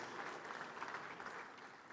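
Faint, distant applause from a large audience at an international bank's annual meeting for the Prime Minister of the Bahamas, a steady wash of clapping that holds evenly throughout.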